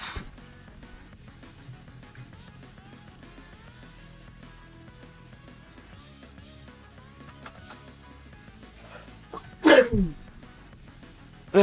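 A single sudden, loud cough or sneeze bursts out close to the microphone near the end, after a long stretch of faint background game music.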